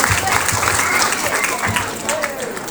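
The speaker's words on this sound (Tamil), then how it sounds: "கைத்தட்டலையே அன்போடு அழைக்கின்றேன்." Audience applause at a stage event, a steady wash of clapping from a crowd lasting the whole moment, fairly loud and close, with some voices mixed in.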